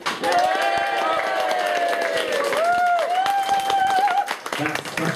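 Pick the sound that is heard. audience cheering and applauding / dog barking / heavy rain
audience cheering and applauding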